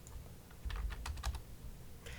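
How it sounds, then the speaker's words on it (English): Several close, crisp key presses on a computer keyboard, including the Delete key, come as a short run of separate clicks around the middle, with another faint click near the end, during CAD modelling work. "Delete key on the keyboard, check mark."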